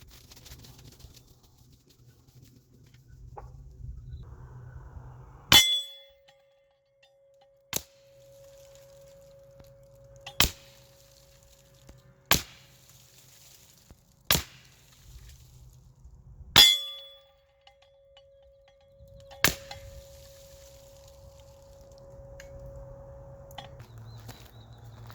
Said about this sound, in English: you were hearing the impact and not the gunshot